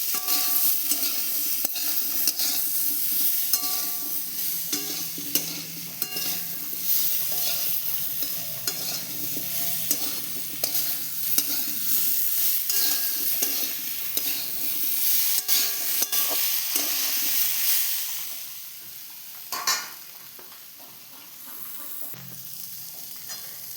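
Papaya and potato curry stirred in a frying pan with salt and turmeric, a spoon scraping and turning the vegetables over a steady sizzle, close and continuous, with no talk.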